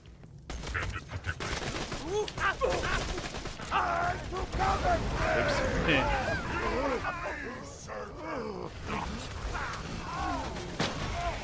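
Anarchist pistol from Borderlands 2 firing rapidly in long sustained bursts of loud shots, mixed with game effects and overlapping voices in the background.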